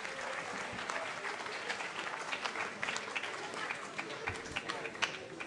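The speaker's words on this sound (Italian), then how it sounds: "vi chiederei di fare un grande applauso a questi ragazzi e ragazze" A conference audience applauds steadily, a dense wash of many hands clapping at a constant level throughout.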